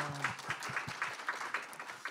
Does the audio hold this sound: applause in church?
yes